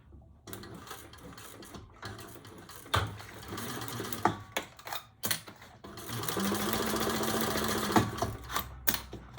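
A sewing machine stitches a zipper on a bag in short bursts of rapid mechanical whirring and chattering, broken by pauses and handling clicks, with a longer steady run near the end.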